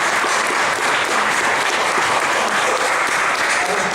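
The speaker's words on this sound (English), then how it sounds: "Michael deserves a round of applause for the festival here" Sustained applause from an audience at the Inchicore literary festival, a dense, steady wash of clapping that fills the whole stretch at even loudness with no voices breaking through.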